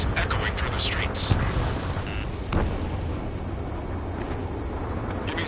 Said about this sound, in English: gunfire and the roar of jets echoing through the streets